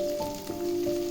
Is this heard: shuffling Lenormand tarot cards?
no